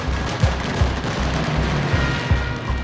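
Strafing machine-gun fire from aircraft in a World War II war documentary setting, with repeated loud bursts and thuds at irregular intervals over a dense rumbling background.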